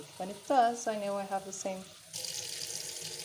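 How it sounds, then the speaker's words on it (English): Tap water running into a pot of rice on the stove, a steady close rush that fills the last second alone after someone talks over its start. "I'm going to fill this up until I feel the water reaching my pinky"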